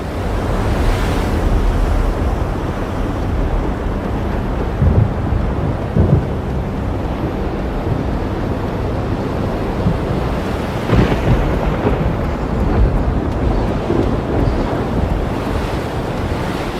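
Stormy sea surging toward the ancient coastal city of Dwarka, a continuous heavy roar of crashing surf and wind with deep rumbling swells that rise and fall over about seventeen seconds, loud and unbroken.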